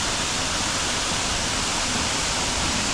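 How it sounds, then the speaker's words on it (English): Shimba Hill Falls near Diani, Kenya, pours in a dense, steady roar of falling water that fills everything, loud and unbroken with no pauses or voices. "Shimba Hill Falls."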